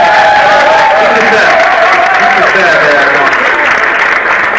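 Very loud crowd applause at a live event with a band, a continuous roar of clapping mixed with some cheering, while voices talk over it throughout.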